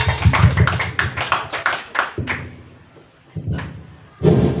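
Audience applause at a school positive-culture dissemination event, a burst of clapping that fades to near quiet before a second loud round of clapping starts.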